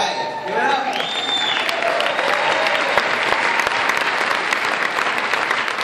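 A conference audience in Tennessee breaks into sustained, dense applause that fills the room steadily for several seconds, with faint crowd voices mixed in.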